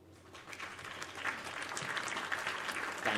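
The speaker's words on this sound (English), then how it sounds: "Take a minute to applaud me." Faint, even applause from a crowd plays alone for a few seconds, a soft wash of many hands clapping that builds slightly toward the end.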